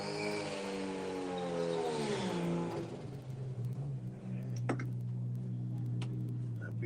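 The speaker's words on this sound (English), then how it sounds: "That beautiful RV sound of Mark Mosley from Extreme Racing Engines" Drag racing car with an engine from Extreme Racing Engines roaring loudly down a drag strip, its pitch rising and then settling into a steady high drone, with faint crowd noise in the background.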